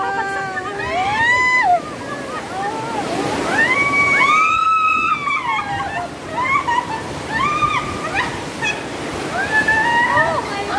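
Water splashes and sloshes on an Ocean Park water ride in Hong Kong, a continuous wash of spray heard under excited shouting and screaming from riders.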